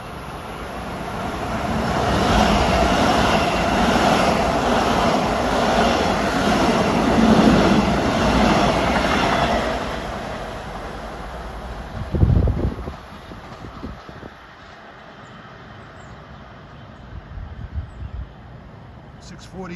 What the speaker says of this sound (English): coming down track 1 is another hot shot, train 2015